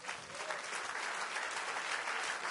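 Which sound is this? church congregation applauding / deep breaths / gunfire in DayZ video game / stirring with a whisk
church congregation applauding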